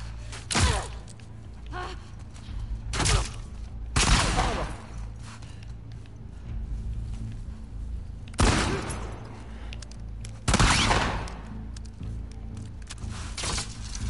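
Several loud gunshot bursts in The Last of Us Part II ring out at irregular intervals, each sharp crack fading into a brief echo over a low steady background.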